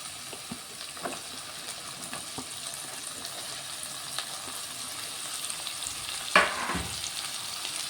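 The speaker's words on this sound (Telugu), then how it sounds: "ఇప్పుడు ఇందులో కట్ చేసి పెట్టుకున్న ఈ దోసకాయ ముక్కలు కూడా వేసుకుంటాను." Cucumber pieces sizzle and fry in a pan of masala curry, a steady quiet crackle with a few sharper stirring clinks and one louder scrape near the end.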